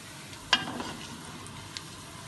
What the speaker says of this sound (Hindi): अब जैसे ही हमारा प्याज ब्राउन होगा तो उस वक्त तक हम इसे फुल फ्लेम पे पकाएंगे।